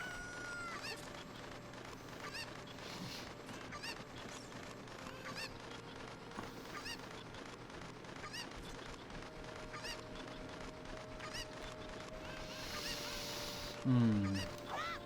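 Cucco chickens cluck and honk in Zelda: Ocarina of Time, a dense, continuous chorus of repeated game squawks over steady background game music, ending with a louder flurry.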